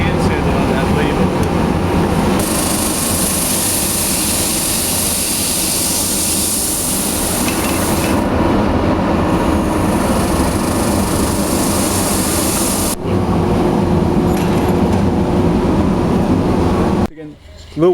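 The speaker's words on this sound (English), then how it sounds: "we bring it over to the sander. Put it through this automatic sander" An automatic sander working on a wooden baseball bat after the lathe, a loud continuous machine roar with a sharp high hiss that starts and stops in bursts, then cuts out abruptly near the end.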